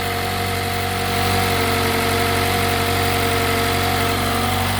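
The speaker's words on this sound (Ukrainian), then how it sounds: "Тепер нам треба прогріти двигун" A Mazda 6 GL engine idles steadily and loudly while warming up, a constant low hum and vibration with a slight rise partway through, with no voices.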